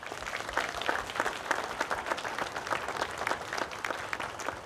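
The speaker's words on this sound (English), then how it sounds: "So if you all can give them one more round of applause." Applause from an audience honoring presenters at a National Hispanic Heritage Month event, a dense, steady patter of many hands sustained throughout at moderate distance.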